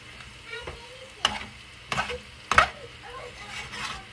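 Eggs fry in a pan for potato, egg and bacon tacos and are flipped with a utensil. Several sharp scrapes and clacks stand out over a steady, close sizzle, and nobody speaks.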